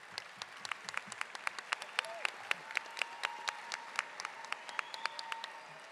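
Graduation audience at the Hollywood Hills High School 2025 commencement applauds with scattered crisp claps in a moderately distant hall, and a brief voice cuts in partway through.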